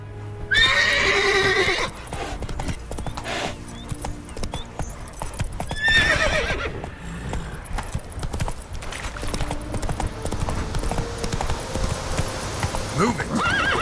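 A horse in The Witcher 3 gallops with rapid rhythmic hoof clip-clops, neighing and whinnying loudly at a couple of points, while someone talks over the hoofbeats.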